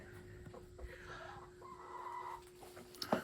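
Quiet, low clucking from a nearby hen, a murmuring series of short calls ending in a slightly sharper burst.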